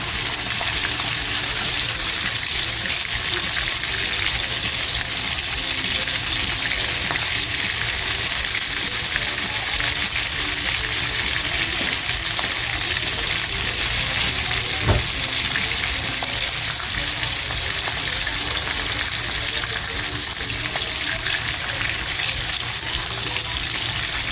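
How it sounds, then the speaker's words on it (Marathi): Prawns frying in oil in a pan for chilli garlic prawns, a loud dense unbroken sizzle holding steady throughout, with one brief click midway. "कोरबी हो, खूप छान फ्राय झालेली आहे अजिबात खाली तेलामध्ये चिकटलेली नाही"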